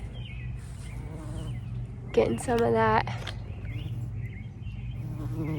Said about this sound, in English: Oh, there's bees everywhere.